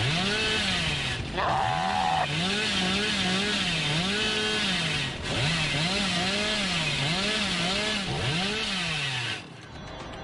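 Chainsaw in the Dead by Daylight video game, a loud buzzing engine that repeatedly revs up and down in rhythmic surges for several seconds, with a brief higher whine partway through and no talk over it.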